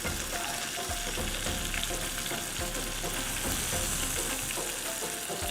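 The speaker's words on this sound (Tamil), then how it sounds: "So chicken பார்த்தீங்கன்னா இந்த மசாலாவோட ஸ்டஃப் ஆகி நல்லா குக் ஆகிட்டுருக்கு" Goan chicken cafreal cooks in masala in a pan with a constant close sizzle and occasional stirring scrapes, loud and unbroken throughout.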